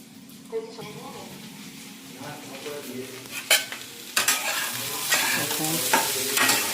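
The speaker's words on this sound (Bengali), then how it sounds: "পেঁয়াজ সব একসাথে ভেজে নিচ্ছি" Onions frying together in a pan while being stirred, with a steady sizzle and sharp scraping clatters of the spoon against the pan growing busier toward the end, recorded close in a home kitchen.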